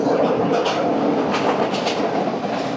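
The Dhumketu Express from Dhaka to Rajshahi rumbles steadily along the rails, with a continuous roar and faint rhythmic clatter, heard close up as if from inside a carriage.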